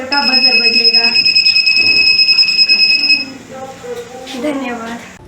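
A buzzer on student-made smart goggles sounds a steady, loud, piercing electronic tone for about three seconds, then stops as a voice talks over the background.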